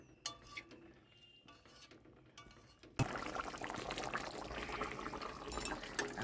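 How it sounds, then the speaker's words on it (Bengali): Water heating in a pot with pointed gourd for boiling: soft scattered clinks and drips at first, then a steady close hiss and bubbling wash of liquid that carries on to the end, no voices. "পটলটিকে সেদ্ধ করবার জন্য আমি জল দিয়ে নিলাম। এখন কিছুক্ষণ ফুটিয়ে নেব।"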